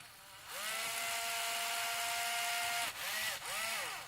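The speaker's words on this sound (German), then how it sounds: "Wir haben so ein Maniküre-Set, ein elektrisches." A high-pitched electric manicure grinder whirs steadily against plastic for a few seconds, then cuts out and restarts twice in quick bursts, close by with no talking.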